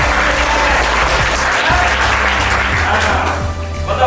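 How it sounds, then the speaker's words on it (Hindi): Classroom of physics students applauding after a static charge experiment, a loud, continuous burst of clapping close by that holds steady throughout. "मतलब ये ताली दिल से निकल रही है"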